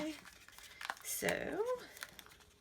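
A strip of washi tape peeled off paper card stock in a papercraft setup, with a short close crinkling, tearing rasp and a brief crackle.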